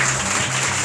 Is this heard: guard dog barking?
no